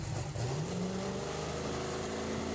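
A 5,000-horsepower turbocharged race car engine revs loudly and close, its low roar rising in pitch with a whining whir over dense broadband noise.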